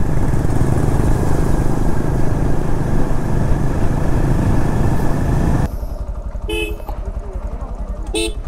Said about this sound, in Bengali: এতগুলো বাইক আছে